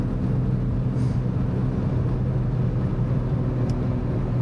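A 1971 Jaguar E-Type Series 2 4.2L manual cruises at about 65 mph, its engine and road noise forming a loud, steady rumble with a constant low drone and a brief faint high tick.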